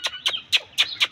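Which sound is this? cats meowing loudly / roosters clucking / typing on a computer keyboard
roosters clucking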